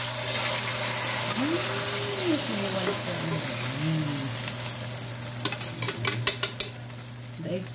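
Eggplant fries in smoking-hot cooking oil with a steady low sizzle, stirred at moments, followed by a few close clinks of a utensil against the pan.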